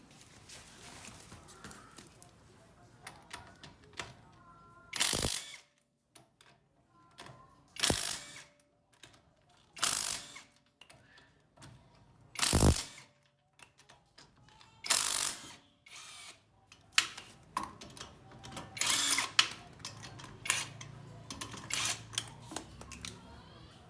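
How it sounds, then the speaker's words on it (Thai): Wrench or ratchet working a tight pulley nut on the power steering pump of a Honda Civic FD 1.8, giving a series of sharp mechanical clicks and bursts spaced a few seconds apart, close by, with busier clattering toward the end. "แน่นมากครับน็อตฟูเล่ตัวนี้ เดี๋ยวผมต้องพยายามเอามันออกนะครับนี่"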